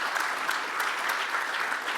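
An audience at a CERN welcome event applauds, a dense, steady wash of clapping hands filling the room throughout, with no voices standing out.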